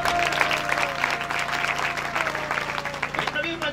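Congregation applauding at an evening church service, dense clapping over a held keyboard tone, with voices mixed into the crowd sound.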